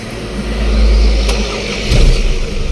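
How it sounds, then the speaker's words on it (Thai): The engine of a Mitsubishi L200 pickup truck rumbles loudly close by, its revs swelling and dropping in a deep, throaty roar. "ฟังเสียงเครื่องยนต์กันหน่อยนะครับ"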